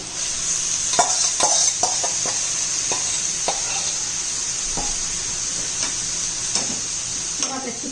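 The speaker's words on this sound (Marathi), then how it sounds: "मॅरिनेट केलेलं चिकन आपल्याला त्यात घालायचं आहे" Marinated chicken with yogurt, cooked for biryani, sizzles steadily in a pan. Scattered clinks and scrapes of stirring sound close over the hiss.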